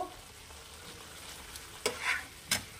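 An egg dish fries on a high flame with a soft, steady sizzle in a quiet kitchen, broken by a few sharp clinks and a brief scrape of stirring.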